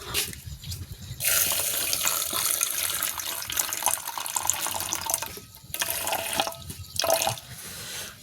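Water pours from a tap into a pan for making tea with milk, running in a steady splashing stream with brief pauses and drips.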